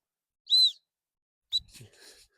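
Two short, high-pitched blasts from a dog training whistle during Labrador puppy training, the first clean and sustained, the second brief and followed by faint rustling, in a quiet setting.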